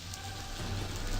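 Steady rain pours in the video game Blackwell Convergence, a dense, continuous hiss of drops on surfaces with a low rumble underneath, even and moderately loud with no voices.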